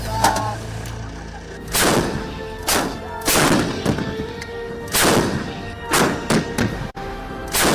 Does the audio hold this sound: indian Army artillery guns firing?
yes